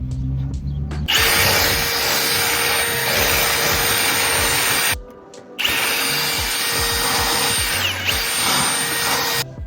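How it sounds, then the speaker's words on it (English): A power drill whines loudly and close up in two long bursts, drilling holes in a trailer, with a brief pause between them. "All right, so drilled them"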